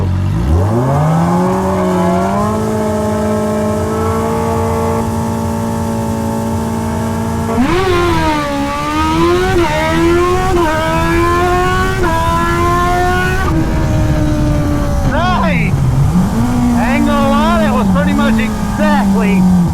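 A 2025 Suzuki Hayabusa drag bike launches hard at about 7,000 RPM. Its engine screams loud and close, climbing in pitch through several quick gear changes before easing off.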